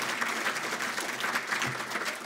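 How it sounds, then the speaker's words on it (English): Audience applause for the staff at the Reagan Ranch center, a steady dense patter of many hands clapping close by, with no voices over it. "let's give a round of applause to our Reagan Ranch staffers here at the center"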